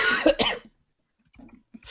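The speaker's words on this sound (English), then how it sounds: "My cough has returned" A single close, harsh cough with a throaty rasp, followed by silence and a few faint, breathy throat sounds.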